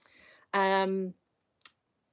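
A single sharp computer mouse click sounds once, clear and close, shortly after a brief voiced tone, then silence follows.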